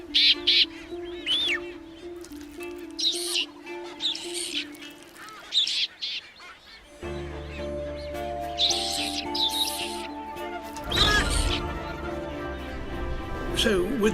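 Vampire finches and boobies on an island give repeated sharp chirps and short calls, some near and some farther off, with a low drone and a spoken voice over part of the scene.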